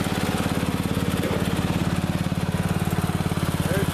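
A Craftsman riding lawn mower engine runs steadily at close range, a loud, even putter with a regular pulsing rhythm that holds without a break, no smoke coming from it.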